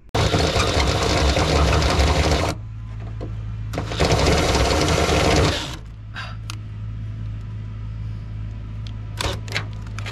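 A loud power tool runs in two long bursts while bolting down 5th gen Ram running boards on a 4th gen Ram truck, followed by a lower steady hum and a few scattered clicks.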